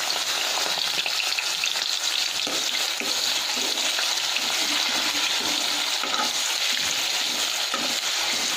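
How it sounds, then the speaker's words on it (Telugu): Paneer frying in hot oil in a steady, dense sizzle that stays loud and close throughout, with small crackles and stirring scrapes under it. "ఇదే ఆయిల్లో ఇప్పుడు పన్నీర్ ఫ్రై చేసుకుందామండి."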